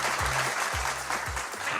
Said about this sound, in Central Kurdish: ئەدی یەک چەپڵەی بۆ لێبەن